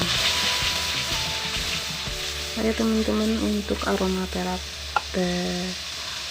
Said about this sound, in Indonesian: Lanjut tumis bumbu yang telah di blender.